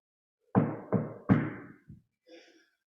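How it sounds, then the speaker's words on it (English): Three loud, sharp knocks land on a door in an uneven rhythm, followed by a softer tap and a faint, muffled rustle, with no voices. "The next morning, she heard knocking."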